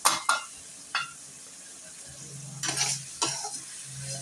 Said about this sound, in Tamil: போட்டு நல்லா பெரட்டணும்.